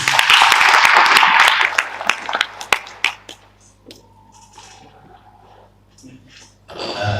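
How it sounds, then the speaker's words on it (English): Conference audience applause for the session moderator, a dense burst of clapping for the first few seconds that thins into scattered claps and fades, with a low room hum underneath. "A round of applause, please."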